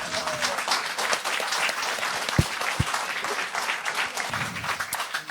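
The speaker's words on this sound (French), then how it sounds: "On peut applaudir." An audience applauds steadily throughout at a live studio event, with a couple of sharp louder claps standing out midway and faint voices mixed in.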